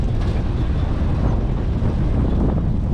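Steady wind roaring against the microphone outdoors, a loud continuous low rumble with no break.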